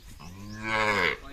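A single drawn-out moo from a calf, nearby and fairly loud, rising and then cutting off after about a second.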